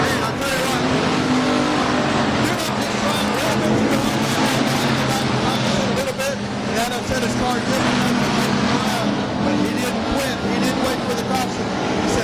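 Non-wing sprint race cars roaring around the Heart O' Texas Speedway dirt oval, engines loud and continuous with cars sweeping past, while an announcer talks over the racing.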